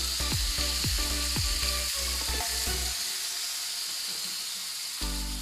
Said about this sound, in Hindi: इसको बहुत अच्छी तरीके से भून लेंगे 2 से 3 मिनट तक